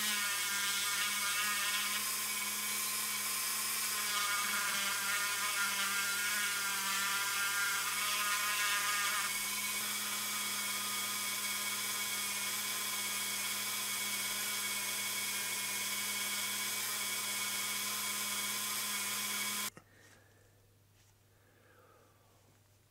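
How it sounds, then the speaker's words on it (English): Rotary tool fitted with a diamond burr bit grinding inside a diecast Matchbox Ford Mustang Wagon model car, a steady high-pitched whine that runs for about twenty seconds and then stops, leaving quiet room tone. "It's kind of a diamond burr bit. It'll be able to flatten and clean up the walls a little bit."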